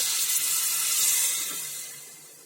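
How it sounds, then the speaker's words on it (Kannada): Water is poured from close by into a gram flour mixture for North Karnataka junaka, giving a steady splashing stream that swells slightly and then fades over a couple of seconds. No one speaks. "ಅದಕ್ಕೆ ನಾವೀಗ ಸ್ವಲ್ಪ ನೀರು ಹಾಕೋಣ ಇದಕ್ಕೆ"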